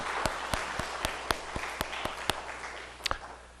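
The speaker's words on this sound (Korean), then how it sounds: "우리 한번 박수로 환영하십시다." A small church congregation claps steadily at a Sunday service, with sharp individual claps standing out over a continuous patter of applause.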